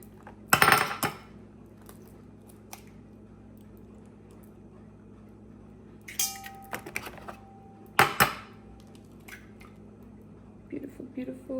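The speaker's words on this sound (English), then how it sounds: "Crack your eggs all up in the bowl." Eggs are cracked into a bowl while making a pumpkin roll, heard as a few sharp, separate taps and clinks against the bowl's rim with short pauses between, set against a faint steady room hum.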